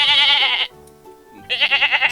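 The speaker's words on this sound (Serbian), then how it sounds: "A kako se koza čuje?" A goat bleats loudly and close up, two wavering calls separated by a brief pause.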